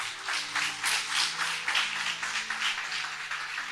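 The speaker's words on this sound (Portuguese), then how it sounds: "Vamos aplaudir a Jesus então." A church congregation claps along together at an evening healing and deliverance service, producing a dense, sustained round of applause that swells and pulses for several seconds before easing slightly.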